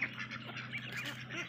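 A farm flock of Muscovy and laying ducks quacking together, overlapping nasal calls in a continuous chattering mix, close by and moderately loud.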